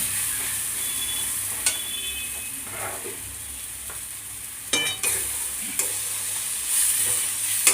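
Salted spice masala for a Bombay duck fish dish frying in a pan, a continuous close sizzle with scattered spatula scrapes and knocks as it is stirred, no voices.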